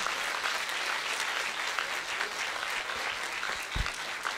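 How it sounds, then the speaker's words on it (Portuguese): Worshippers at a Portuguese-language church service clap together in a soft, steady round of applause that sounds somewhat distant and continuous throughout. "Dê uma salva de palmas a Jesus."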